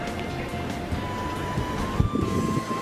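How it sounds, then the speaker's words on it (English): Wind gusting across an open cruise ship deck at sea, a steady broadband rush with microphone buffeting and faint surf beneath. "Maybe a bit windy though."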